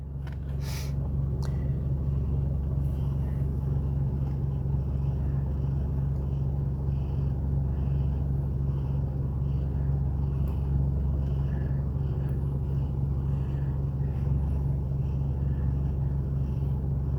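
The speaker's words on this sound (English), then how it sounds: "No, he's not purring. That's the car. You're hearing the car." A deep, steady engine rumble drones without a break, low and continuous, like sitting inside a running car that needs repair.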